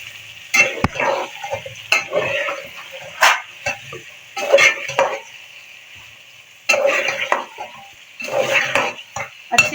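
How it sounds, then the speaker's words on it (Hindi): Chicken frying with spices in a pot for brown pulao, heard as bursts of sizzling and spoon-stirring scrapes in several loud clusters, with quieter gaps between them and no talk. "हम चिकन शामिल करेंगे, इसको हम साथ में फ्राई कर लेते हैं।"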